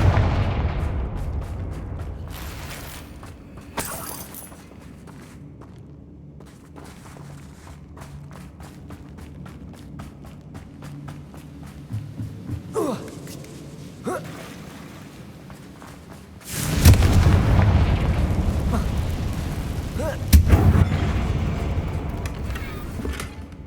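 Casting the Confringo fire spell in Hogwarts Legacy sets off booming blasts, a heavy burst with a rumbling tail and then a second one a few seconds later, after a stretch of scattered clicks and footsteps.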